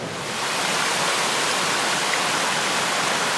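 A creek swollen with spring runoff rushes hard during a cold, snowy spell, giving a loud, steady broadband roar of churning water that fades in and then holds unbroken throughout, with no voices.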